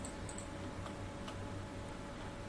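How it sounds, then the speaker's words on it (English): A battery filling up in the game FortressCraft gives a quiet, steady ticking that repeats without pause over a faint constant hiss. "That noise you can hear is actually the battery filling up."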